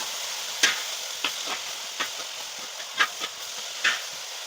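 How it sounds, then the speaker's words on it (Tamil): Banana flower stir-fry (poriyal) is stirred in a pan, giving a soft frying hiss broken by about seven separate scrapes and taps of the spoon against the pan. "வாழைப்பூ சேர்த்து கொடுத்துட்டு கிண்டி கொடுத்துக்கோங்க"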